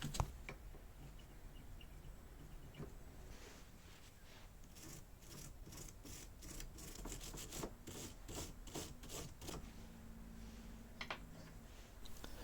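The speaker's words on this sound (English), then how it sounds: "it has brass bristles, so they aren't going to scratch up anything" Brass-bristle brush scrubbing the steel bolts of a century-old bayonet under restoration, giving steady close scratchy rubbing strokes with a quicker burst of brisk back-and-forth scrubbing midway.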